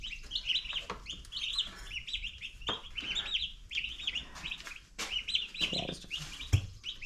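Chickens and chicks cluck and chirp steadily nearby, high peeping calls layered over lower clucks with a few rustles and thumps; a voice says a brief word.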